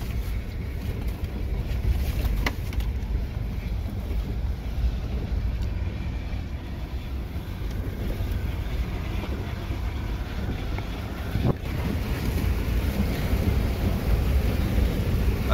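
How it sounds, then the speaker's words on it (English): A Land Rover Discovery on a green lane in Wales wades through water, giving a steady loud rumble and rushing wash over several seconds, with a few sharp splashes and clunks along the way. "I love that sound wading through water."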